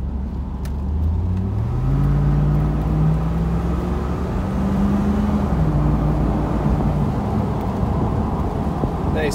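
A 2002 Chevrolet Camaro SS accelerates on the road. The engine note climbs steadily, its pitch rising and then shifting as it changes gear, under a constant rumble and road noise. It sounds close and loud throughout.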